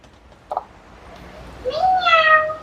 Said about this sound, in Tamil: இது ஒரு பூனி உண்டு, சின்ன பூனி உண்டு வந்து நிற்கிது நண்பர்களே.